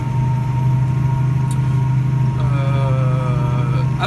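French farm tractor pulling a rotary harrow across a field, a steady loud low engine drone throughout with a faint whine rising late in the clip.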